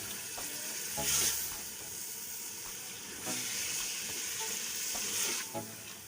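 Soaked chana dal is stirred in a hot pan with a continuous frying sizzle and hiss, broken by a few louder scraping stir strokes spaced a couple of seconds apart.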